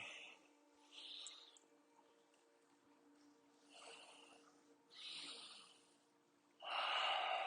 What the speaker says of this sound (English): Nice even breathing. Ujjayi, victory, ocean sounding breath.